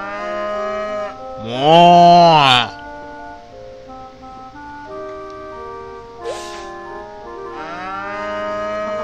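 A cow in the Harvest Moon: One World farming game moos loudly twice, long drawn-out calls over a steady cheerful game melody, and a person says a word between them.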